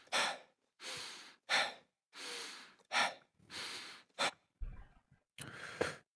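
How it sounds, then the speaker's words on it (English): Player character in Far Cry 6 breathing hard while running, a close series of loud, rhythmic panting breaths with short gaps between them, one brief softer gasp near the end. "I hear my breathing when I run"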